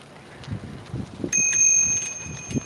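A bicycle bell rings out close and bright, one sustained metallic ring over faint background rumble and soft bumps.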